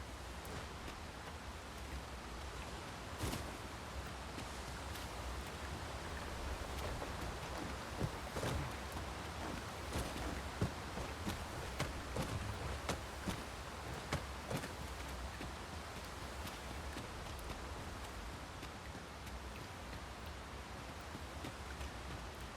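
Steady rain falls in the fantasy game Dragon's Dogma II, a constant hiss of rain on surfaces with scattered sharper drips and taps, continuous with no voices.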